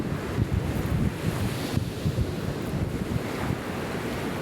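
Waves wash onto a white sand beach while wind buffets the microphone, a continuous rushing surf with gusty low rumbles, no talking.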